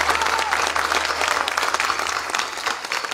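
A crowd at a town hall address by a newly elected municipal president applauds the state governor with dense, sustained clapping. The applause holds at a steady level throughout and sits over a low background hum.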